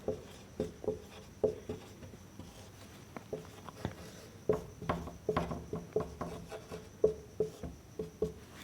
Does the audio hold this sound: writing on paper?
yes